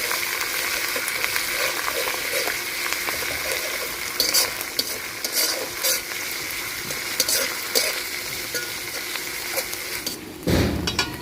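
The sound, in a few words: onion with garlic, ginger and cumin paste frying in pan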